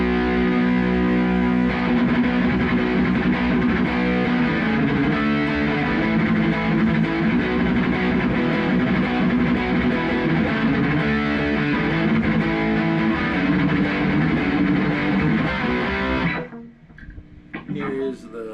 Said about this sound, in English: here's my Marshall tones. This is the bridge pickup.